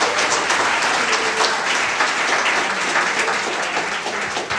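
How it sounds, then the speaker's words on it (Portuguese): Loud, dense applause from a church congregation during a service, a continuous roar of many hands clapping close by without pause. "uma salva de palmas ao Senhor."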